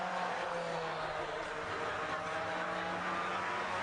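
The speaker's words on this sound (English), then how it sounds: "This car just sounds so magnificent." A race car engine at the Simola Hillclimb, King of the Hill 2021, gives a steady, fairly distant roar with a low droning undertone. It holds even and continuous throughout, with no distinct pass-by.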